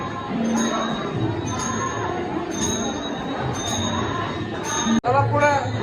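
A dense crowd of temple-goers murmurs and calls out on Mahashivratri, a steady wash of many voices with faint chimes and jingles over it and a sharp clack near the end.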